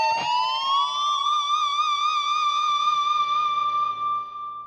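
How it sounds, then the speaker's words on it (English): Electric guitar harmonics are played on both sides of a whammy bar bend. A bright chiming harmonic rises smoothly and then sustains with a gentle wavering vibrato for several seconds, up close and on its own. "You can also play a harmonic in one side of the bend and play a different one on the other way"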